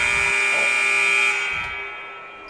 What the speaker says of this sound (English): The buzzer just went off when it probably shouldn't have, right in the middle of serve.